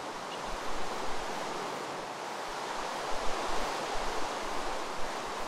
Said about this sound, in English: I'm down here by the river.